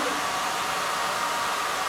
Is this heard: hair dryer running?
yes